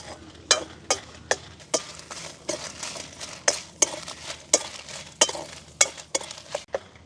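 Dried red chillies dry-roasted in a pan without any coconut oil, a spatula scraping and tossing them in a steady series of sharp, close scrapes and clinks roughly twice a second, with no talking.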